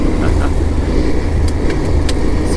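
Motorcycle on a first ride of the season over loose gravel on the Trans Euro Trail in Sweden, with a steady loud engine drone and rumble and faint crunching throughout.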